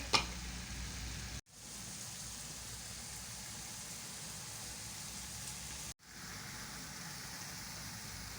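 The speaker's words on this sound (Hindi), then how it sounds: "अब इसमें जाएंगे आलू।" Chicken and potatoes sizzle steadily in a pan for a chicken tikka biryani, a continuous close frying hiss interrupted by two brief dropouts.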